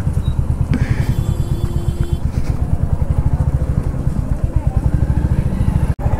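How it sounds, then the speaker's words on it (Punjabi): A Royal Enfield Hunter 350 motorcycle in Rebel Blue idles close by with a steady, rapid low thumping beat that runs throughout, briefly interrupted by a sharp click near the end. "ਇਹ ਸੁਪਰ ਬਾਈਕ ਆ ਮੇਰੀ, ਸੁਪਰ ਬਾਈਕ ਜਾ ਬਾਈ।"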